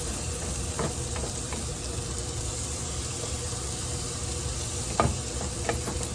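Garlic sizzling in a hot pan: a steady, dense hiss of frying that holds throughout, with a few soft clicks and a small clatter of stirring near the end.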